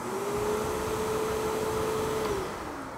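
A DEWALT Stealth Sonic 12-gallon 5.5 HP wet/dry vacuum hums quietly with a faint, steady motor tone and airflow hiss, then spins down as the pitch drops near the end.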